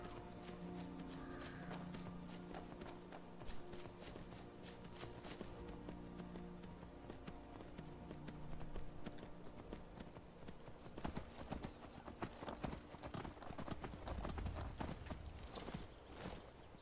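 A horse gallops in the video game Skyrim with steady rhythmic hoof clip-clops throughout, close and loud, turning into a quicker, heavier run in the later part.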